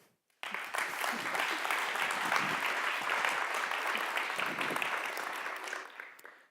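Audience applause for a speaker at a talk on building an audience that trusts journalists, a loud, sustained burst of clapping that starts abruptly and holds steady for several seconds before tapering off.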